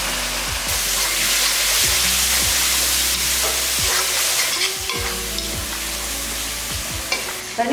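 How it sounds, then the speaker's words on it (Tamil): Tomatoes and chicken sauté in a hot pan with a loud, steady frying sizzle, punctuated by repeated spatula scrapes and knocks against the metal at irregular intervals, close up and without speech. "2 தக்காளியை சிக்கனுக்கு இந்த மாதிரி வதக்கிக்கலாம்."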